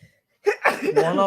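A single sharp human sneeze indoors, a quick intake followed by a loud burst, with a voice speaking right after.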